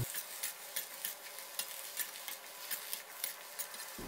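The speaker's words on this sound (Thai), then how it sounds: "ตามด้วยกระหล่ำปีนะครับใส่ลงไปเลยครับแล้วก็ผัดคลุกเคล้าให้เข้ากันเล็กน้อยนะครับ" Cabbage and garlic stir-fried in a pan, a steady soft sizzle with repeated light scraping and stirring strokes in an even rhythm, close and fairly quiet, with no voices.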